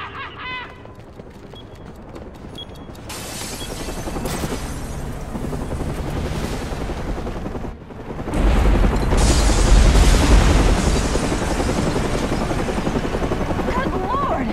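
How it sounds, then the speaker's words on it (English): A massive explosion in a Batman video game: a sudden loud, deep blast that swells into a sustained roar, with a steady helicopter-like rumble and rushing noise continuing throughout. "where there has just been a massive explosion"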